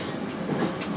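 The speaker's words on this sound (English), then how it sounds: "And here we're passing another train." A train passing on a Japanese rail line, a steady broadband rumble with brief hissing swells, continuous and fairly close throughout the short moment.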